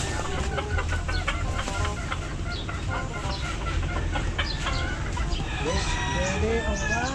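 Several chickens cluck steadily nearby, with busy overlapping calls and a few louder squawks toward the end.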